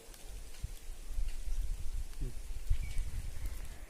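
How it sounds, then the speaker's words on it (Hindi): Light drizzle falls outdoors in a rural Himachal setting, a soft, steady patter of small drops with faint low rumble beneath, quiet and continuous throughout. "अभी लगी हमारे यहाँ पर बारिश, हल्की हल्की बूंदाबांदी हो रही है"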